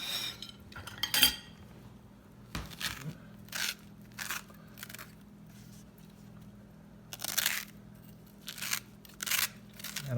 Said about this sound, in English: now gotta scoop out the seeds